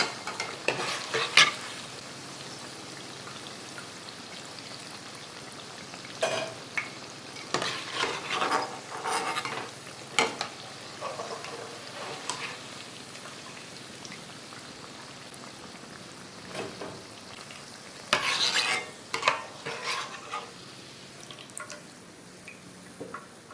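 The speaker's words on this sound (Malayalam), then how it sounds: "ഇനി ഇതെല്ലാതും പൊരിച്ചെടുക്കാം" Cabbage and egg fritters bubble and crackle in hot oil, with a steady frying hiss and bursts of clattering as a ladle stirs and lifts them, close and moderately loud.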